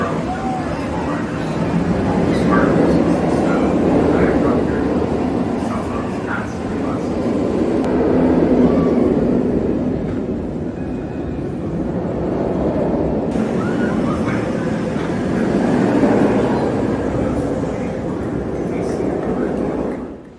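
Great Bear, an inverted roller coaster at Hersheypark, rushes and rumbles in a steady loud roar with swelling passes of track noise over about twenty seconds, riders' voices blending into the din.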